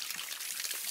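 Water pours briefly in the Kick The Buddy game, a short, faint splashing rush with no talk over it.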